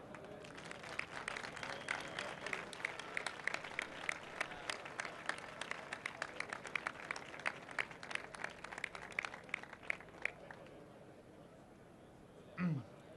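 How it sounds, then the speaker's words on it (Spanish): Applause breaks out at a rally for decent work held by a dignity platform, a crowd clapping steadily and fairly distant for about ten seconds before fading to quiet room noise, with a brief sound near the end. "Pedimos un fuerte aplauso."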